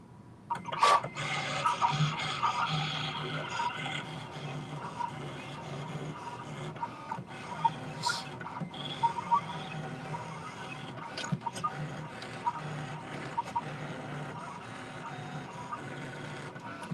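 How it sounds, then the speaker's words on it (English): A vinyl cutting machine slices glitter vinyl and fabric, giving off a quiet whirring, printer-like motor hum with scattered clicks and short carriage movements throughout, and no talking. "So I'm going to go ahead and send to cutter."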